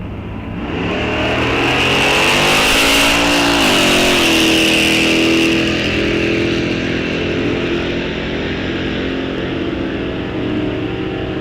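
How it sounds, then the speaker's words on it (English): Loud engine roar from muscle cars drag racing at Rock Falls Raceway, a Dodge Hellcat Challenger and a Pontiac, sustained and close, with the pitch climbing as the cars accelerate down the strip. "Hellcat Challenger moving on."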